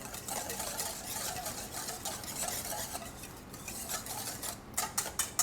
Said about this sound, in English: we are going just to whisk to combine all those ingredients together